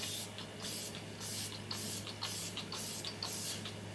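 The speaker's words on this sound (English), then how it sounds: "I'm going a little bit overboard with the spray" A finishing setting spray from a makeup line mists onto a face in repeated short hissing bursts, roughly seven spritzes in four seconds, close and steady, with no talking.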